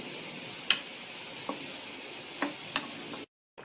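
A pot of boiling oil for homemade hair oil hisses and sizzles steadily while a utensil stirs, with a few light clinks against the side.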